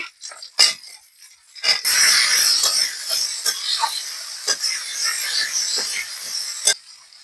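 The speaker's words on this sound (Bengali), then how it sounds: "আমি বেগুনগুলো দিয়ে দিচ্ছি ভাজি করার জন্য।" Eggplant slices dropped into hot oil for frying, a steady sizzling hiss with a few sharp clatters from the pan and utensils.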